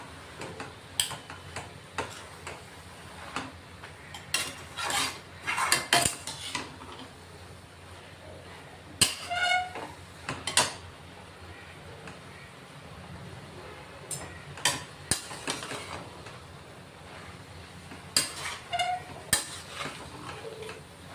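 Fenugreek leaves being stirred with spices in a pan, with scattered ticks and scrapes of a utensil against the metal and a faint sizzle, irregular strokes spread across the stretch, no talking.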